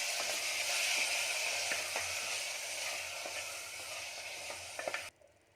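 Mutton stirs and fries in a hot pan with oil, a loud, continuous sizzle broken by occasional scraping knocks of a spoon, cutting off abruptly near the end.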